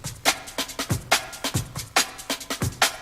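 Drum break fill with the lows cut by EQ and a short small-room reverb, rapid kick and snare hits in a busy syncopated rhythm, close and punchy throughout with no voices.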